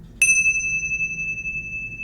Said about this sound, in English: Our third bell.